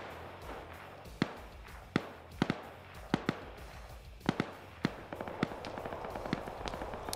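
Thermite charge burning through a weapons cache in a tactical shooter match: a steady hissing, crackling burn with sharp, irregular pops and bangs scattered across the clip, some close and loud.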